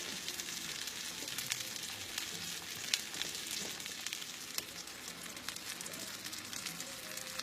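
Salmon searing in a hot pan, turned down a little, gives a steady, dense crackling sizzle with scattered sharper pops, continuous and close throughout, with no one talking.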